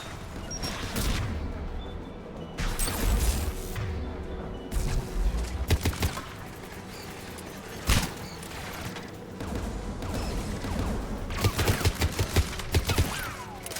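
An anti-aircraft gun in the Mass Effect 3 video game fires repeated heavy bursts, with sharp cracks and booming volleys coming in irregular clusters amid mechanical clatter and battle noise.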